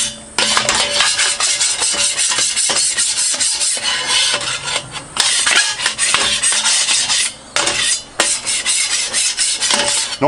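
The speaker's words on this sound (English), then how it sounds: "get the scraper, give it a good scrape off" A metal scraper rasps loudly across a camp steel BBQ plate, scraping off stuck-on bits from cooking beef koftas in repeated close strokes with brief pauses between passes.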